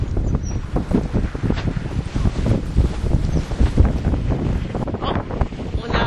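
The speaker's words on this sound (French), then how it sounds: "parce qu'il y a beaucoup de vent" Strong wind gusting at 20 to 25 knots over a slowed fishing boat at sea, a continuous loud roar and buffeting that rises and falls without pause.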